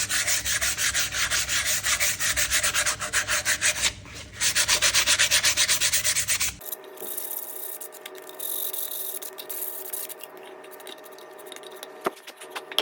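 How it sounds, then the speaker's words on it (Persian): Sandpaper of 220 grit rubbing back and forth over a painted wooden inlaid box, with a steady rapid scratchy rhythm, close and loud, followed by quieter, lighter rubbing strokes. "قبلش یکم با سنباده که استفاده میکنم 220 میزنم که ضدیاش بره"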